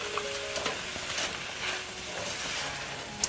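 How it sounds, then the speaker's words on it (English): A stuffing mix of homemade bread, garlic and onion with cilantro just added sizzles steadily in a pan while a spoon stirs it, with soft scraping and a few light knocks. "the cilantro is going to go in now."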